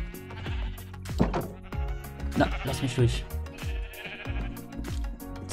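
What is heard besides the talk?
sheep bleating while being sheared in Minecraft video game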